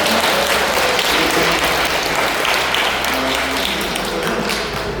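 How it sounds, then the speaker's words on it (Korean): An audience at a parish training session applauds the lecturer, with dense, even clapping filling the room steadily from start to finish and a low hum underneath. "강사님께 다시 한번 큰 박수 부탁드립니다"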